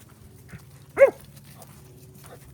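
A malamute puppy gives a single short, sharp bark at close range, with a couple of faint yelps around it in an otherwise quiet outdoor setting.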